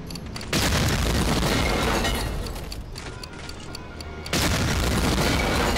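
Heavy blasts tear through Flak 88 guns in Medal of Honor Allied Assault, a sudden loud boom followed by sustained roaring, crackling debris and mechanical clatter, then a second loud burst near the end.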